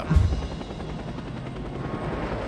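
A helicopter in a Superman video game gives a loud, steady rotor whir and engine drone that starts with a heavier thump and then holds at an even level throughout, with no talking.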